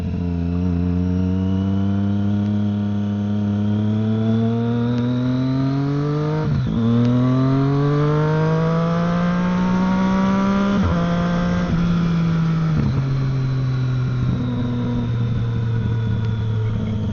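A Triumph Street Triple 675 motorcycle ridden at a relaxed pace, its engine droning steadily and close, the pitch rising through the gears and dropping with brief dips between shifts.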